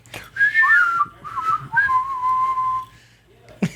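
A person whistles a short, wavering tune up close, the pitch sliding and holding, with a brief sharp sound at the very end.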